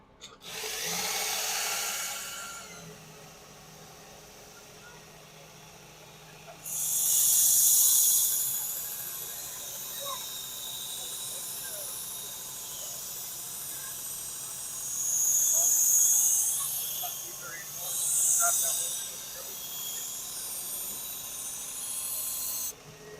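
WorkSharp Ken Onion Elite MK2 sharpener working an 8-inch Victorinox kitchen knife: several separate bursts of abrasive grinding hiss, each a few seconds long, separated by quieter gaps.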